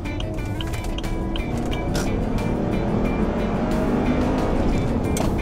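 A Land Rover LR3 with a 4.4-litre V8 pulls away at full throttle, its engine a dense, steady low roar heard from inside the cabin, building slightly over a few seconds with faint road noise.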